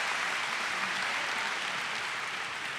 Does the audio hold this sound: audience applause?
yes